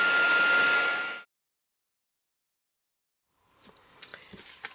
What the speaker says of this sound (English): I'm going to take my heat tool to it to dry it a little bit quicker.